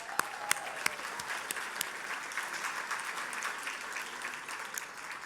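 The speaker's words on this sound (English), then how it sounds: "Round of applause." Steady audience applause fills a gala benefit evening for eye health, a dense even wash of many hands clapping with a few sharper nearby claps standing out, continuing without a break and no voices on top.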